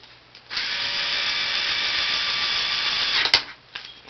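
A power tool whirs steadily for about three seconds while tightening a replacement bearing hub on a CEN Genesis RC car, close and loud, then stops with a sharp click and faint handling noises.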